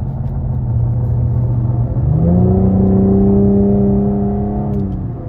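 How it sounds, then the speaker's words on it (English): Cadillac CT5-V in V mode, its exhaust droning low and loud, then rising in pitch with a shift into a deeper, smoother tone held for a few seconds before easing off. "the exhaust is just more aggressive when it's in V mode in general"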